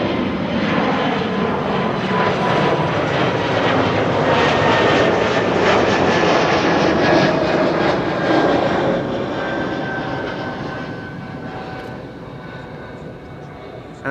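A Boeing 747 takes off from Amsterdam Schiphol, its jet engines making a loud, broad roar that holds steady and then gradually fades as the aircraft climbs away.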